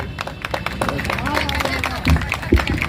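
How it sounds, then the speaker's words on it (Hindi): An audience at a Hindi kavi sammelan poetry recital claps in scattered, uneven bursts, with a voice speaking over the applause throughout. "जोरदार तालियों से स्वागत करें"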